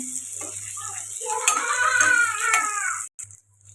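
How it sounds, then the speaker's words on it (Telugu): Fish frying in hot oil for a Telugu home curry, a steady close sizzle and crackle running under the whole stretch, with faint muffled bumps and a brief cutoff near the end. "ఆయిల్లో ఇలా మంచిగా ఫ్రై చేసుకోవాలండి ఇలా ఫ్రై చేయడం వల్ల టేస్ట్ బాగుంటుంది"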